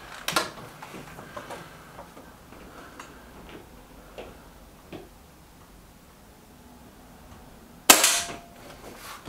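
Air rifles, a Trimex Arms Elf S and a Kral Puncher Knight, fire at targets: faint clicks and small pops through the quiet, then one sharp loud report near the end.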